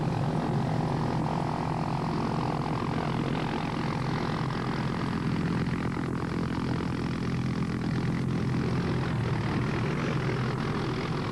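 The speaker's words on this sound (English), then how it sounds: "the medical evacuation helicopter arrives through the early morning mist" A Hughes 500 medical evacuation helicopter arrives through early morning mist, a steady, loud, unbroken engine and rotor drone with a broad rumbling roar that holds throughout and has no voices over it.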